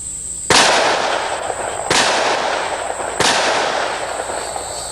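Three loud, sharp gunshots from a Rossi 971 VRC .357 Magnum six-shot revolver with a barrel compensator, spaced roughly 1.4 seconds apart, each with a bright blast and a long ringing decay, no talking.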